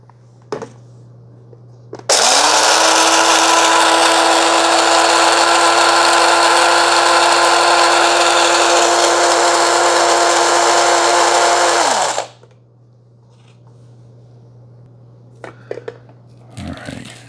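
Mr. Coffee 12-cup electric coffee grinder, model IDS77, grinding beans to a coarse setting: a loud, steady high-pitched motor whine with gritty rattle runs about ten seconds, then stops abruptly, followed by a few faint handling knocks.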